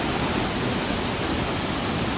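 A stream near a village goddess temple in rural Konkan flows with a steady, broad rushing wash of water, constant and fairly soft, with no voices.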